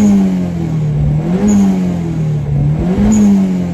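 A Nissan S13 engine, running after months of sitting, roars loudly up close with a steady, rough drone that rises and falls in gentle rev swells.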